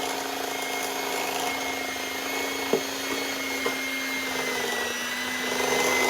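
Electric mixer running steadily through oatmeal cookie dough as dry ingredients go in, a continuous close motor whine with a couple of faint knocks of beaters against the bowl.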